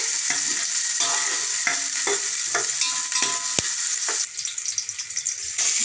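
Onions dropped into hot oil for tempering a village-style chicken kheema curry sizzle with a constant bright hiss, loud and close, punctuated by scraping stirs and one sharp clack of a utensil against the pan.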